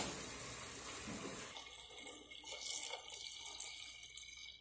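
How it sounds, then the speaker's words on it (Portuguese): Hot water pours steadily into a pot of canjiquinha with pork ribs nearby, the splashing shifting in tone as it fills, with no talking. "Agora eu vou estar acrescentando aqui a água quente"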